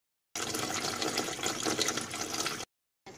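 Water runs steadily into a cooking pot for boiling chicken, a continuous close hissing splash that lasts about two seconds and then cuts off abruptly.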